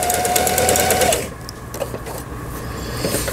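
A Singer 3827 household sewing machine runs steadily for about a second with a whining motor tone, then stops, leaving quieter mechanical clicks and handling sounds.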